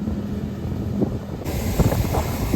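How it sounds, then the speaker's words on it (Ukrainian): Steady, roaring wind buffets the microphone in a sunflower field during harvest with a John Deere 9500 combine, a constant rumbling gust with no voices. "Дуже страшний вітер"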